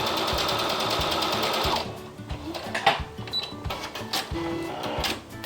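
Sewing machine running in a steady rapid whir while stitching an embroidered cosmetic pouch, then slowing into short start-stop bursts, close and clear with no talk.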